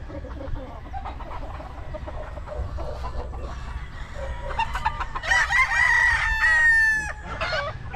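Gamefowl roosters at a game farm crow and cluck, one loud nearby crow rising clearly late on over softer clucking and distant calls, with no talking.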